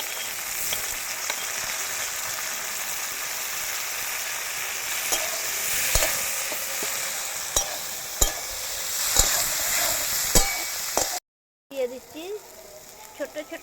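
Crushed tomatoes and capsicum sizzle in hot oil while a spatula stirs and scrapes intermittently, the frying hiss steady and close throughout, cutting off near the end before a few more clattering stirs.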